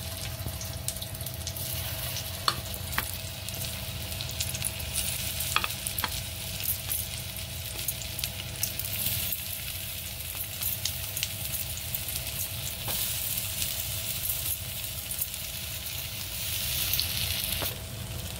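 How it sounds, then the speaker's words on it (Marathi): Soya patties shallow-fry in about a spoonful of oil, giving a steady, close sizzle that runs unbroken throughout, with a few faint clicks of a utensil on the pan. "आपण एकदम कमी तेलावर हे पॅटीस करून घेतोय"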